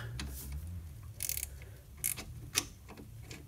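Ratcheting, metallic clicks from a 17 mm wrench tightening a brake caliper bolt on a Renault Clio 2 during a brake pad change, a few short close bursts over a low steady background.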